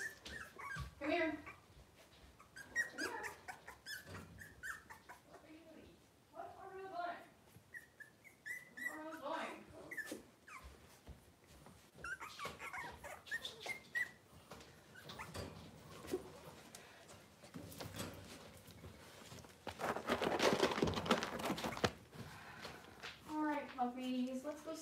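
Cavalier King Charles spaniel puppies whimpering, thin high whines scattered through the scene, close and faint, with someone talking over them.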